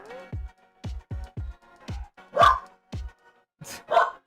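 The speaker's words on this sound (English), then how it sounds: "The dogs are barking at each other." Several dogs bark back and forth outdoors, about nine sharp barks in an uneven exchange, some closer and louder than others, with no talking.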